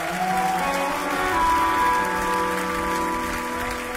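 A concert crowd in Cologne applauds the crew, a steady wash of clapping mixed with lingering sustained musical tones from the stage.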